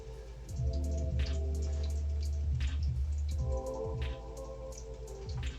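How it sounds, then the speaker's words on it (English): Water trickles and drips continuously close by from a small tabletop waterfall, an irregular patter over a soft low hum, with no voices. "I've got my little waterfall going on in the background."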